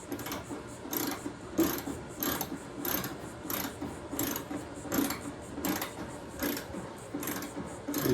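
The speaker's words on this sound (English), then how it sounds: "I'm going to get a 10mm socket for those plastic nuts, and I'm going to tighten those 2 up." A hand ratchet with a 10mm socket tightens plastic nuts while a wheel well liner is installed on a 2024 GMC Sierra 2500, giving a steady run of quick, close clicking strokes.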